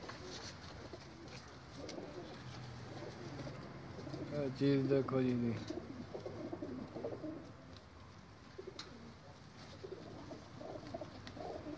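Pigeons coo in a soft, repeated warble near the middle, mixed with a nearby voice speaking and background chatter.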